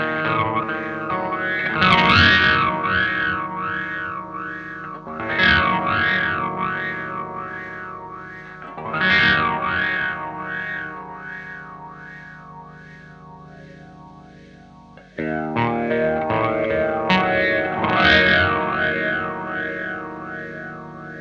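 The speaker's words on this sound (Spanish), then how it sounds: "Veamos cómo suena con todo el mix." Distorted guitar chords strummed through an EarthQuaker Devices Interstellar Orbiter pedal at full mix, each loud strike swelling into a rhythmic, wobbling filter sweep that pulses steadily before the next chord, four strums in all, no talking.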